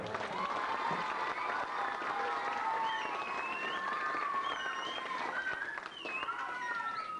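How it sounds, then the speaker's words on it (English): A hall audience applauds steadily for Tommy at a 1989 McCarthy Cup gathering in Tech, with dense, sustained clapping and some whistles and crowd noise running the whole time. "I think we have to say well done to Tommy and give him a round of applause."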